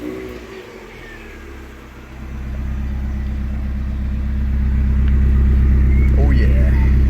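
A Mazda MX-5 Mk2.5 engine cranks and catches, then settles into a deep, loud idle that grows stronger, with a voice briefly heard at the start.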